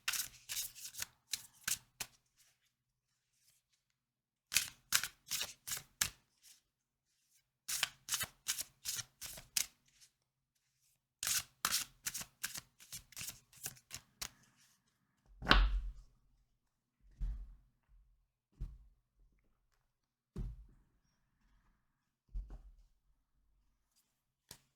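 A deck of Shaman's Dream Oracle cards is riffled and shuffled repeatedly in close, crisp bursts of rapid flutters separated by silent pauses, then gives way to several soft thuds of cards set down, with no talk.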